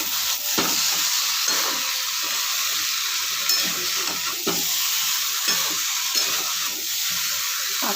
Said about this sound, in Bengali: এবার আমি দিচ্ছি এর মধ্যে ভিজিয়ে রাখা ছোলাগুলো।